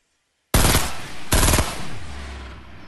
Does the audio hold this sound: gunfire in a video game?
yes